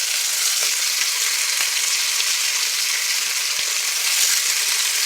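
Boneless pork chops sizzle loudly in a hot pan just after being flipped, a dense, even hiss of frying fat with a few faint pops, close up and unbroken, no talking.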